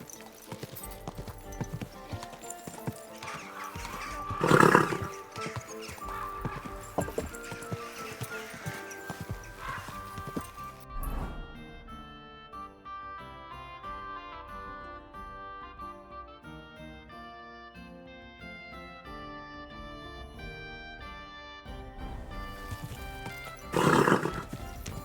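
Horse hooves clopping and a horse neighing in the medieval video game Kingdom Come: Deliverance, with rhythmic hoofbeats throughout, two loud whinnies near the start and end, and a musical score swelling in the middle.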